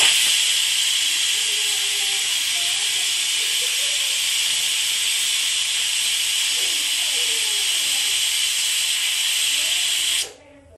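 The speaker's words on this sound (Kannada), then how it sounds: "ಅದನ್ನು ಕುಕ್ಕರ್ ಒಳಗೆ ಹಾಕ್ಕೊಂಡು 2 ಸೀಟಿ ಹೊಡೆಸ್ಕೋಬೇಕು" A pressure cooker vents a loud, steady, high-pitched steam whistle while cooking drumsticks for soup. The hiss holds unbroken for about ten seconds, then cuts off abruptly.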